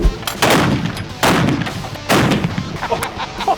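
A cannon fires three booming blasts about a second apart, each loud and close with a sharp crack and rumbling tail, followed by quieter scattered noise.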